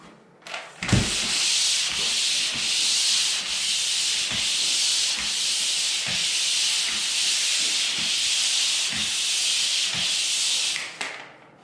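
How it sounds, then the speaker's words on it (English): Sanding by hand on a drywall joint gives a steady, close, loud abrasive hiss, with rhythmic back-and-forth strokes marked by faint knocks that run for about ten seconds and then stop. "I'll just sand this joint quick"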